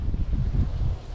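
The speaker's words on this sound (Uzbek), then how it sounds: "Shamol to'xtamayapti." Wind gusting across a microphone at a fishing spot by a spring, a brief low rumbling buffet that swells and fades, close and fairly loud, with no voices.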